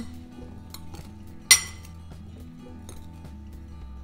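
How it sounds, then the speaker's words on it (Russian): A spoon scrapes and clinks against a bowl while stirring spices and salt into pumpkin, with one sharp clink standing out among soft, repeated scraping sounds. "Перемешиваю наши специи с солью, засыпаю все это в подготовленную тыкву, перемешиваю"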